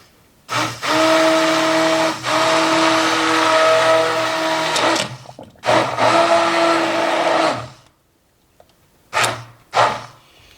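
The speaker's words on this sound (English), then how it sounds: "you can use the food processor or a blender." Blender pureeing baked potato soup, a loud close whirring motor with a steady pitched hum, run in several bursts of a few seconds each separated by brief pauses, ending with two short pulses.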